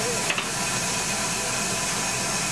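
A steady, loud hiss of escaping steam from a steam engine fills the whole stretch, broad and unbroken, with a couple of faint clicks near the start.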